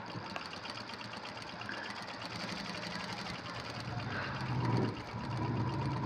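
Sewing machine stitching a fabric purse, a steady fast mechanical chatter running throughout at moderate level, with faint voices underneath.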